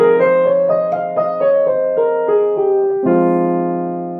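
A piano plays an F Aeolian scale as a run of single notes over a sustained low chord, ending on a fuller ringing chord that decays, close and clear.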